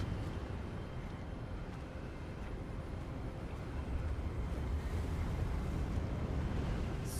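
Steady wind roars and rushes through an outdoor video game scene, a broad, constant gusting hiss that swells slightly toward the end, with no talk over it.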